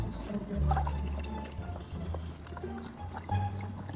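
Halloween punch is poured, giving a liquid trickling and dripping sound with faint splashes over a low background hum.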